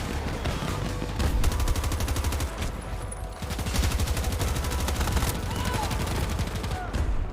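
Sustained automatic gunfire in the Battlefield MMXLII video game, a steady rattling stream of rapid shots, loud and near, with brief pauses between long bursts.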